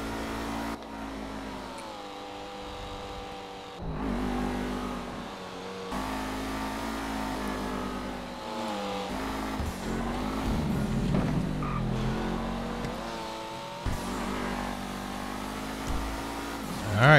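Race cars roar around the Circuit of Alamo Sea in a GTA sports GT race. Engines rise and fall in pitch as they rev through gear changes, with a continuous close, moderately loud drone and no talking.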